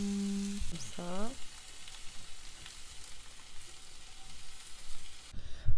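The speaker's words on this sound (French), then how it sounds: "Je vais me faire quelques tranches de ce bacon." Bacon slices frying in a pan, a soft continuous sizzle and crackle heard close, with a brief voice and clatter at the start and a knock near the end.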